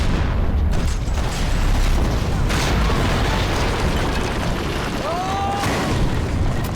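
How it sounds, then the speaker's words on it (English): An RPG rocket explodes in the video game Max Payne 3, heavy booming blasts and mechanical clatter over a constant dense roar of gameplay noise, with a brief rising whine late in the clip. "That's an RPG."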